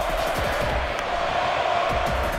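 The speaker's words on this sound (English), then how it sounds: "I like how the crowd is chanting" A WWE 2K15 arena crowd at a Summerslam-style Brock Lesnar versus Undertaker match, a steady dense roar with rhythmic chanting pulses, loud and continuous without commentary on top.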